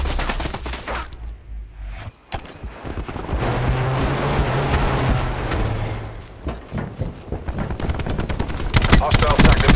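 Thresher gunship attack in Call of Duty Black Ops 4: dense, sustained bursts of rapid gunfire and explosions, loud and continuous with brief gaps.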